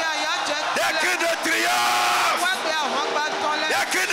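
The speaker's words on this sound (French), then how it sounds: "Pousse des cris de joie." A church congregation at a seminar service shouting cries of joy, a dense, sustained wall of loud overlapping voices, whoops and yells filling the room throughout.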